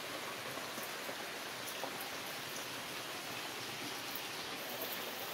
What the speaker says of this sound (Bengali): বৃষ্টিটা এখনো পর্যন্ত কমার নাম নেই, ভালোই জোরে হচ্ছে।